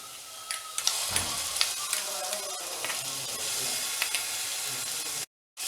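Sliced onions with ginger garlic paste fry in a pan, giving a steady loud sizzle and hiss broken by scraping stirs, continuous throughout before a brief cut to silence near the end.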